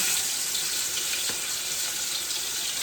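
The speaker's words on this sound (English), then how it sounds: "And I'm going to add my oxtail to the oil." Oxtail pieces searing in about a quarter cup of hot oil for a Jamaican smothered oxtail dish, giving a steady, close, loud hiss and crackle that holds evenly throughout.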